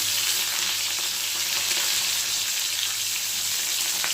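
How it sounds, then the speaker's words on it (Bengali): Papaya pieces frying in a pan for a vegetarian vegetable dish give off a steady, dense sizzle that stays loud and even throughout, with no talking. "তো পেঁপেটা হালকা ফ্রাই হয়ে গেছে"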